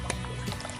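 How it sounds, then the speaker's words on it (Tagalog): Water gushes steadily from a hose fed by a mini water pump, a continuous splashing pour that is close and fairly loud throughout the brief moment. "Lalabas na naman yung tubig."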